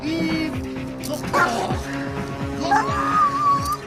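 Police dog barking repeatedly in quick, yipping bursts, close and loud over a busy background, with some whining between barks.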